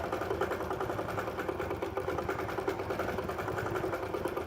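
A 16x Elite longarm quilting machine runs steadily while stitching a pebbling pattern, giving a continuous, close mechanical hum with a fast stitching buzz that stays even throughout, with no voices.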